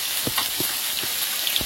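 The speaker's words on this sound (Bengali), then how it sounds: "তেলের মধ্যে একটু গোটা জিরে দেবো" Whole cumin seeds sizzle in hot oil for cooking taro greens, making a loud, steady, close hiss with a few soft pops and crackles and no speech.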